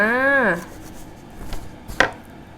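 Several sharp knife chops through raw frog hit a cutting board, spaced out and close by, after a brief rising sung vocal sound.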